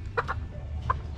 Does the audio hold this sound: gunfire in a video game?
no